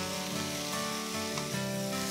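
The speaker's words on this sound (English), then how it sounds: "We're going to carry on stir frying for about 5 to 10 minutes until the sprouts are tender" Brussels sprouts and pancetta sizzle loudly as they are stir-fried in a pan, a dense continuous crackle and hiss close up, with faint stirring scrapes and no voices.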